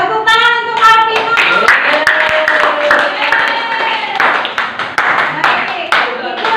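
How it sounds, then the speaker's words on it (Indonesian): A class of children clap in quick, scattered applause, close and lively, with voices chattering and calling out over it. "Tepuk tangan untuk Alvino."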